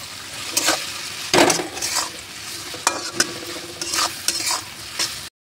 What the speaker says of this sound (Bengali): এবার দিয়ে দেবো বেটে রাখা মশলাটা, দিয়ে একটু ভেজে নেবো।